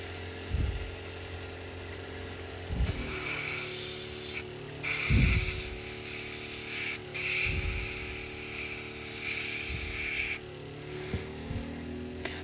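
An airbrush sprays paint onto a Warhammer miniature in bursts, a sharp hissing spray switching on and off several times with soft handling knocks between.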